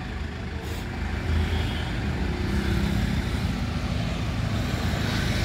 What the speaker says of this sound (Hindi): क्या शानदार आवाज़ है भाइयों, देख ले छुआ तो स्टार्ट हो गया, कोई भी दिक्कत नहीं है ट्रैक्टर में।